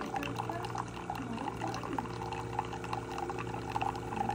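Freshly brewed original blend coffee from a brand-new coffee maker trickles and pours in a faint, continuous stream with small gurgles and drips, close by.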